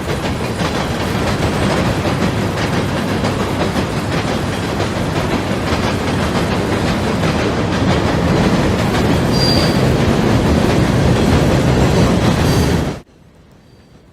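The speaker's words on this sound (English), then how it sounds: "As the end of train device passes" A freight train on the DT&I line rolls past close by, a loud steady rumble of cars with clickety-clack over the rail joints and a brief wheel squeal, cutting off abruptly as the last car clears.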